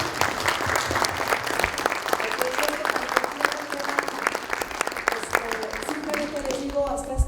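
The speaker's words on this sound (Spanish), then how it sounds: "quiero que se den un aplauso porque cumplimos una primera sesión" A crowd applauds steadily, many hands clapping in a dense, continuous wash that holds throughout at moderate loudness.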